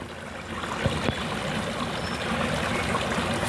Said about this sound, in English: Beautiful little meandering water coming past the rocks.